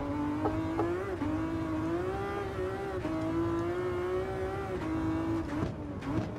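Race car engines in Gran Turismo 7, with a Ferrari Enzo and F50 on track: a steady, loud, high engine whine that shifts pitch slightly as revs change, continuous and close throughout.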